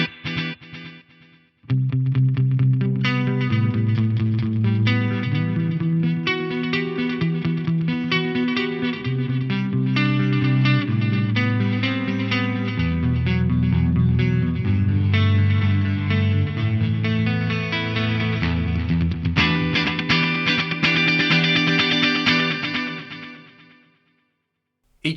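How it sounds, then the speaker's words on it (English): Electric guitar played through a Carvin Quad-X tube amp with a Strymon digital delay in the effects loop, a loud, driven, repeating riff with echoing repeats that rings on alone for about twenty seconds before fading out. "I'm going to kick in the master effects loop where I've got a Strymon dig delay."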